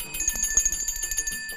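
A bell rings repeatedly with a bright, sustained metallic tone and rapid strikes, fairly loud and alone with no talk.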